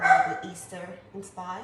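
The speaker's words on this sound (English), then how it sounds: "Of course, as soon as I start the live, she starts to bark." Pet dog barking in a home kitchen, a few short yips and barks breaking in close by while someone talks.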